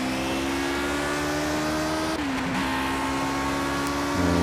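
A Lotus 49C historic race car engine lapping Historic Silverstone in the racing game Project Cars, a loud, close, sustained high-pitched whine that dips briefly mid-way as the revs drop and then climbs steadily again, with no talking.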